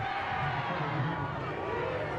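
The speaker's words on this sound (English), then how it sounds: "Boy, listen to that crowd." Crowd at a college football game between Nicholls Colonels and Sam Houston Bearkats, a broad, even roar of cheering heard from a distance and sustained without breaks.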